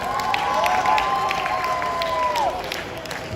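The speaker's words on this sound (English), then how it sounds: "Let's give them another big round of applause." An audience at a school science exhibition claps and cheers loudly and continuously, a dense wash of applause under which a sustained tone and some voices are heard.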